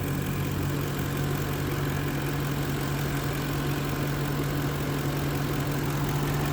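A Lincoln Town Car engine idles steadily during an AC recharge, a constant low hum with a strong droning tone and faint mechanical ticking, close and unchanging, with no talk.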